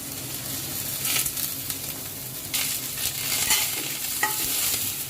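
South Indian mixed vegetable sambar with bottle gourd pieces stirred in a pot, a soft steady sizzle broken by scraping, rustling ladle strokes at uneven intervals, close but fairly quiet, no talking.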